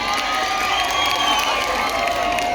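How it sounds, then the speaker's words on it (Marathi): Loud crowd at a Powai community water-distribution event, dense applause and cheering carrying steadily through the whole moment with no gaps. "आपल्या सर्वांनी एक बार त्यांच्यासाठी जोरदार टाळ्या वाजवायच्या."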